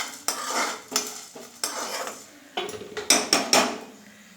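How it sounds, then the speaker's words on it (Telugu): Spices and curry leaves dry-roast over a low flame in a pan for Rayalaseema nalla karam podi, with a spoon scraping and clinking in a series of short, uneven strokes. "ఇవి కూడా చిన్న మంట పైన వేయించుకోవాలి"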